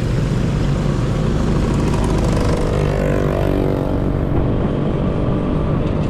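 Motorcycle engine on a Philippine highway ride, a loud continuous drone with a rising whine as it passes, heavy low rumble and wind buffeting throughout, no talk.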